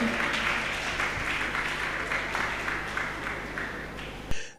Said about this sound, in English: Let's clap for them. Let's give it up to them.